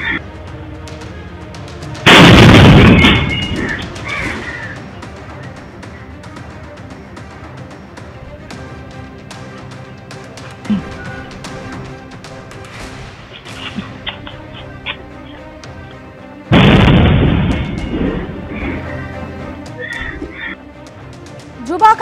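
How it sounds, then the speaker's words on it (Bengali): Two loud bombs explode at night near an auto stand in a Kolkata colony, caught on CCTV: sudden heavy blasts about fourteen seconds apart, each ringing out over a quieter murmur of street noise. "যুবক আসছে, একেবারে বোমা ছুটছে, ছুড়ে চলে যাচ্ছে।"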